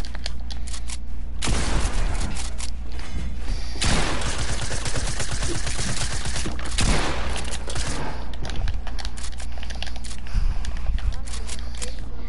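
Rapid video game gunfire crackles in dense bursts over a steady low hum, with some louder booms mixed in. Someone talks over the shooting throughout.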